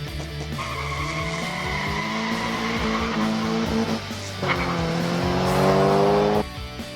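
A 1969 Hot Wheels Pontiac GTO diecast muscle car runs down a time-trial track, giving a steady, close whirring roll whose whine climbs in pitch for several seconds before cutting off.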